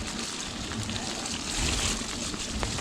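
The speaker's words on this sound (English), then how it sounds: "I can feel a bit of spray coming off my back wheel, landing on my head" Water spraying off a bicycle's back wheel on a wet night ride makes a continuous close hiss and patter, like steady rain, with a slightly louder swell partway through.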